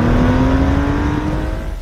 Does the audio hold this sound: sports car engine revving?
yes